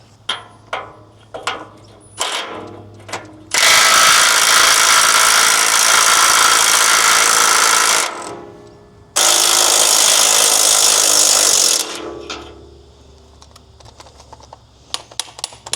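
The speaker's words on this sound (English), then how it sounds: "I'm going to try and undo these bolts here" Bolts on a rusty tractor three-point linkage are undone with a loud power tool, two long sustained whirring bursts framed by scattered clanks and knocks before and after.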